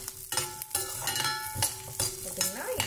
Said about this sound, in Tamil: இவ்வளோ வறுத்துக்கிட்டா போதும்